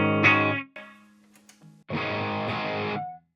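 An electric guitar plays through the distortion channel of a Fender Champion II 50 amp: a loud distorted chord rings and decays, then a quieter held note, then another sustained distorted chord cut off sharply.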